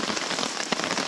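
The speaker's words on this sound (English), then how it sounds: "But what do you think of this rain?" Heavy rain drumming on a tent and tarp at a solo campsite, a dense continuous patter with occasional louder drips, steady and close with no voices.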